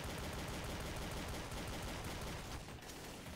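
Pistol fire in the video game Counter-Strike: Source forms a dense, continuous crackle of shots. The sound is steady and loud from start to finish, with no talk over it.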